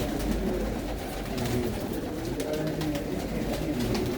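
Many pigeons keep up a steady stream of soft, overlapping coos in a big open loft, low and close with no pause.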